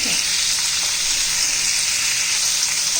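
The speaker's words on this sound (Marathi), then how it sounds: "चांगलं तेलामध्ये परतून घेऊ" Ridge gourd pieces sizzle steadily in hot oil over medium heat, with garlic in the pan, giving a dense, continuous frying hiss that stays close and even throughout, with no talking.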